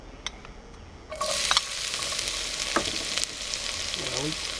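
Onions drop into hot oil for a yellow curry sauce and at once set off a loud, steady sizzle. Short stirring scrapes break through the constant crackle.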